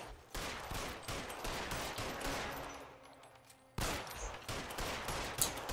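Gunfire in LA Noire aimed at the letters of a Broadway sign: rapid bursts of shots, loud and close, broken by a brief lull before another burst resumes.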